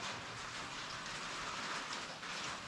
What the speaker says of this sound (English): I'm sorry if you can hear the rain.